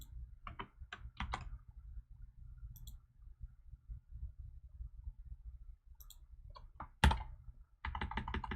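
Typing CSS code on a computer keyboard: scattered close keystrokes and clicks in short bursts, with quiet gaps between them and a denser flurry of keys near the end, no voices.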